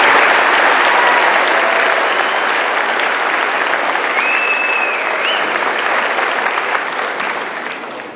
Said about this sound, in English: I think those ladies deserve another round of applause